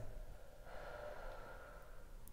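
A patient exhales audibly through an open mouth during a chiropractic exam, a faint, close, drawn-out breath lasting over a second.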